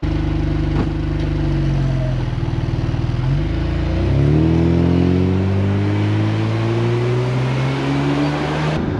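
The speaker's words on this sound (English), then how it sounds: "the car seems to drive all right." A Ferrari engine drones loudly and steadily, then shifts up and rises in pitch as it accelerates, with continuous road and wind noise.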